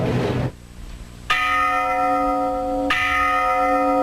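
Church bells in Jaltepec, Huauchinango, tolling in mourning: after a burst of noise, two loud, ringing strikes spaced well apart, each leaving a long sustained metallic hum.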